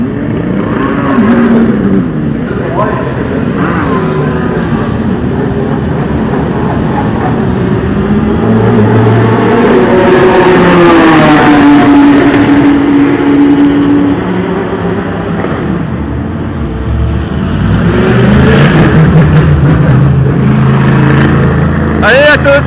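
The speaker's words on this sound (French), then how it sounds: "Il y a la Toyota qui arrive." A Toyota race car at Le Mans 24 Hours qualifying, its engine rising from a distance into a loud, high whining pass with shifting pitch, then fading, followed by further cars approaching as people talk nearby.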